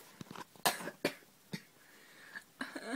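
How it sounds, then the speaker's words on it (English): A person lying in bed coughs several times in sharp separate bursts with short quiet gaps between them, close to the microphone and otherwise quiet. "I hate coughing."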